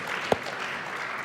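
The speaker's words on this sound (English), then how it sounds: "So big round of applause for our sponsors for sure." A tournament audience at an MIT Battlecode final gives the sponsors a steady wash of applause, with one sharp clap standing out near the start.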